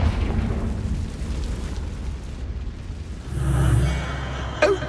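A Confringo blasting spell detonates in the video game Hogwarts Legacy, a single swelling boom with a low rumble rising over a dim ambient bed, then a sharp crack right at the end.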